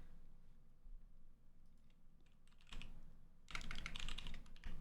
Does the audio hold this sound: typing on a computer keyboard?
yes